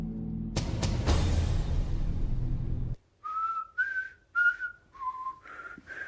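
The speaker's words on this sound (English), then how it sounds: "Oh, I suck at whistling." A low engine-like rumble cuts off, then someone whistles a short tune of several separate, wavering notes, close and alone.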